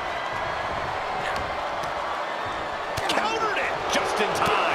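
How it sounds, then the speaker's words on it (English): A wrestling crowd in the video game WWE 2K23 keeps up a constant roar during a Royal Rumble match, swelling and cheering louder toward the end, with scattered impacts and a commentary voice over it. "Listen to this crowd."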